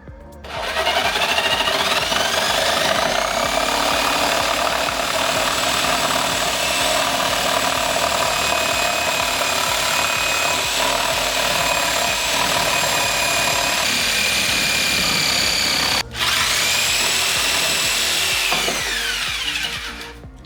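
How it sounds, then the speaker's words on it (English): Power tool cutting a notch into wood for a custom console on a Boston Whaler 13 restoration, a loud steady whirring cut running nearly continuously, briefly stopping and then resuming near the end, with no talking. "we're gonna cut our notch so we know it's this width"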